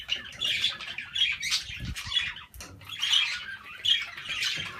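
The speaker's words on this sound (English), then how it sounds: "And this is my budgie breeding aviary." Budgies in a breeding aviary chattering and squawking continuously, a busy flock of overlapping harsh calls and chirps at moderate level, close by.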